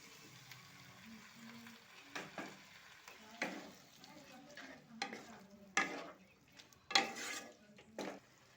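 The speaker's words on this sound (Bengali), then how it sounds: "এবারে দিয়ে দেব কেটে রাখা টমেটো" Chopped tomatoes go into a pan of fried onions for a tomato paratha filling, with a quiet sizzle under sharp bursts of stirring and the scrape of a spoon against the pan.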